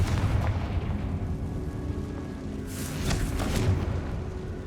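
A Confringo explosive spell in Hogwarts Legacy erupts in a short cluster of sharp bursts and blasts over a rumbling low drone. The blasts are moderately loud and close, with no talking.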